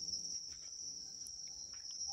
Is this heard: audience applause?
no